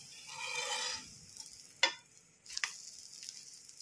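Egg dosa frying in oil on a pan gives a soft sizzle that swells and fades, with a couple of sharp clinks and scrapes from a utensil against the pan.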